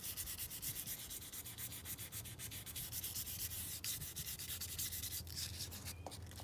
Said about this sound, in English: I can't be bending down to sand on these wheels.